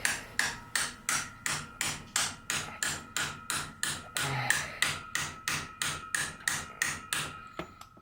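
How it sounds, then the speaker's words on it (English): A hammer taps a brass water pump seal into the engine block of a Polaris Sportsman ATV: about fifteen sharp, evenly spaced metallic strikes, close and loud, in a steady rhythm that stops near the end. "Get your trusty hammer"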